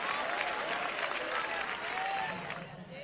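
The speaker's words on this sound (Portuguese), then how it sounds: "dê uma salva de palmas bem fortes para Jesus" A church congregation claps loudly for Jesus during a pastor's sermon, a dense, sustained roar of applause that holds steady, with faint voices and a sung tone drifting through before it eases slightly at the close.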